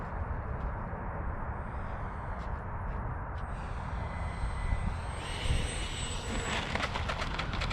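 A Freewing L-39 80mm RC jet plane comes in to land as the throttle is cut, its steady broadband engine roar holding loud and continuous, with a thin whine appearing toward the end.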